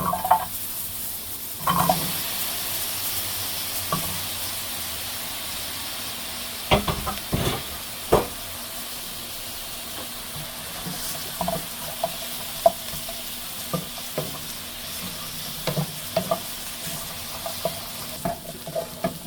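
Dried loitta fish fries in a little oil in a hot frying pan, a steady soft sizzle with scattered sharp clicks and scrapes of stirring throughout.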